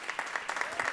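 A live studio audience claps for a band on a Costa Rican music show, a brief burst of brisk, fairly soft applause with individual claps audible.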